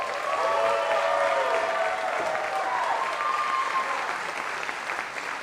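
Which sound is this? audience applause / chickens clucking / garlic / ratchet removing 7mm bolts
audience applause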